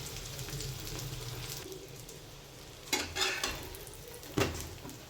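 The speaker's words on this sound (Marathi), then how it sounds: "आता आपण दुसऱ्या बाजूने पलटी करून घ्यायची आहे। दोन्ही बाजूने मस्त आता शेकून घेऊया परत।" A snack pan-roasting and flipped to cook both sides, with soft continuous sizzling and two sharp scraping clatters of a utensil against the pan, no voices.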